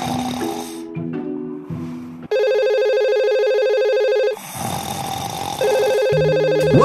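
A telephone rings in a Minecraft game, a loud, steady electronic ringtone with stacked tones that repeats in bursts, preceded by a low snoring-like rumble and alternating with blurry synthetic sounds; no talking.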